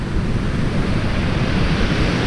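Sea waves wash steadily onto Hythe Beach in Kent, a loud, continuous surf roar mixed with wind buffeting the microphone, with no break or pause.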